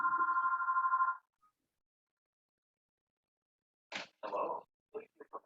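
A telephone rings during an online neighborhood council board meeting, a steady electronic tone lasting about a second before cutting off, followed after a pause by someone speaking.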